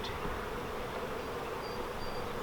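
Honey bees buzz steadily around an opened nuc hive during an inspection, a dense, continuous hum with no voices over it.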